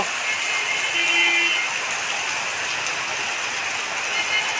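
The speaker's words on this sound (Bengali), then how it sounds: "আপনারা দেখছেন এখানকার বৃষ্টির চিত্র।" Continuous rain falling in the Chowkidighi area at the centre of Sylhet city, an even, unbroken hiss that holds steady throughout with no voices.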